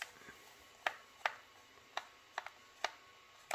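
Small sharp clicks and ticks while a game controller is unscrewed, scattered irregularly and faint against quiet room tone.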